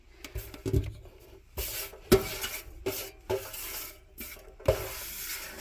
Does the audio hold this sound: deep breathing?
no